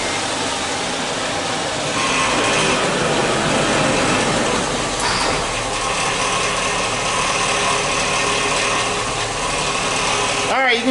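A car with a 4L60E automatic transmission and a torque converter clutch fault idles in a repair shop, giving a steady, loud engine drone that holds for about ten seconds before a brief clunk at the end.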